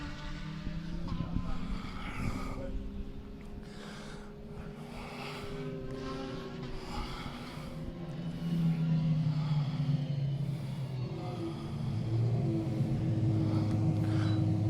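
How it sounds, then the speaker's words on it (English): A Porsche GT Type R race car creeps slowly down pit lane during a GT race, its engine a low, steady drone whose pitch gently rises and falls, while a commentator talks over it. "And the Porsche is coming in very slowly."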